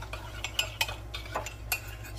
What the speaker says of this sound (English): Stir that chocolate